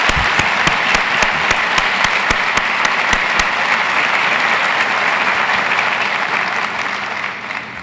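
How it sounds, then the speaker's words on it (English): A large audience at a university State of the University address gives a sustained round of applause with a few distinct louder claps, dense and steady, tapering slightly at the end. "Let's give them a warm round of applause."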